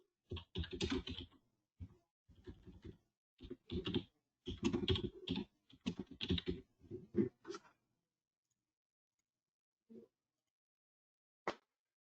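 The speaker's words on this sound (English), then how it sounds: "let me just write back to Stuart" Close, crisp typing on a computer keyboard while writing an email reply, in irregular bursts of keystrokes for several seconds, then a pause and two lone key taps.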